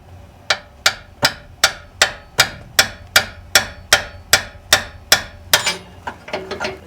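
Rapid impact wrench hammering a bolt during engine mount replacement, a burst of about fourteen sharp metallic blows in steady rhythm, close and loud, ending in a few scattered clanks.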